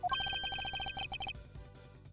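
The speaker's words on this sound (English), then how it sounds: "That's the victim's cell phone." A cell phone ringtone from the Ace Attorney video game chirps out a quick, bright repeating melody of short electronic notes, lasting about a second and a half before fading into quieter background tones.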